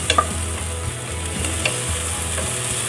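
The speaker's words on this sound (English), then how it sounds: "The onion's been cooking for about 30 seconds now." Onion sautés with a pinch of salt in a pan, a continuous close sizzle broken by rhythmic scraping strokes of a spoon stirring it; no voices.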